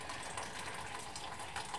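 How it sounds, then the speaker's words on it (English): Hot water from a freshly boiled kettle pours onto soya mince in a bowl, a steady, faint gushing stream heard alone for a couple of seconds. "The final ingredient is hot water from the kettle."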